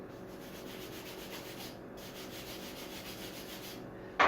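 Feathers being sanded flat for a primitive arrow, a fast, steady rasping rub that runs continuously and close, with a brief louder scrape at the very end.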